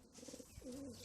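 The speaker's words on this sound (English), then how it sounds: "The birds you can hear cooing in here are the stock birds" Stock racing pigeons coo softly inside a loft, giving a short pulsing coo and then a longer wavering one, close by over a steady background hiss.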